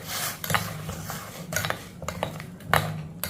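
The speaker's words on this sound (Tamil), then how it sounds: "லைட்டாக கிண்டி விட்டுக்குருவோம்." A utensil stirs soya chunks (meal maker) in a pan of hot water on a gas stove, giving a few close, light metallic scrapes and clinks in an irregular rhythm.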